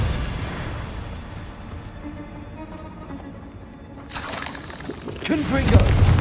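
Combat spells in Hogwarts Legacy, such as Confringo and Bombarda, erupt as two loud booming blasts after a low rumbling stretch, the second burst heavier and trailing off.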